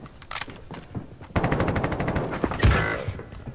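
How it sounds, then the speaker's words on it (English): Automatic gunfire from an AK-74U in a video game at an airport, bursts of rapid shots sputtering at first, then a louder sustained spray of fire from about 1.3 seconds on, loud and close. "They're outside shooting at us."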